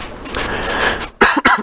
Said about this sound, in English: I just needed a cough, you know?